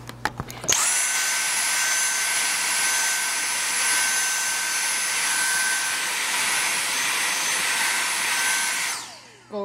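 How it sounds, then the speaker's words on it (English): A Dyson cordless hand vacuum switches on and runs close by with a loud, high-pitched whining roar that holds steady for about eight seconds before winding down. "I have a little Dyson hand vac."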